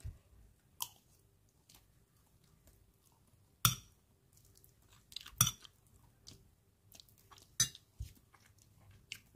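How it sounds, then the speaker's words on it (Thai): Chewing and eating a Thai rice-with-topping dish, with several crisp bites, spoon or plate clinks, and soft mouth sounds spread across a quiet room, no talking. "แค่นี้ละข้าวราดเราก็กินได้แล้วนะคะ"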